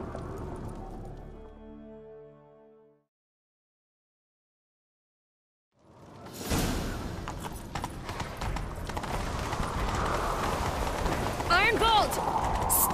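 A horse gallops with loud, rhythmic hoofbeats after a brief silence, accompanied by a voice and busy game-like sound effects, in the video game The Witcher 3: Wild Hunt.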